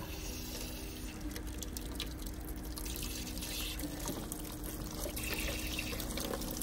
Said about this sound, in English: when I pull that plug, all that water will come out